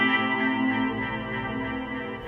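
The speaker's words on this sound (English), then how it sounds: "Can you hear the delay in the background?" Ambient synth pad from a Mellotron M4000D rock guitar patch on an iPad jam, washed in delay and echo, a sustained layered drone with repeating trails holding steady throughout.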